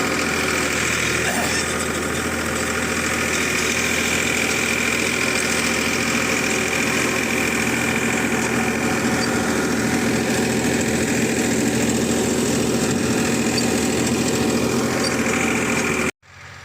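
A farm tractor's engine runs continuously at a steady idle close by, a rough, throbbing drone with a knocking character that holds level until it cuts off abruptly at the very end.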